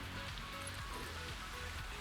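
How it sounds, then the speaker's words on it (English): Rain falls in the video game Satisfactory, a soft continuous patter and hiss at low volume with a faint hum beneath it and no clear voice. "Oh, it's raining."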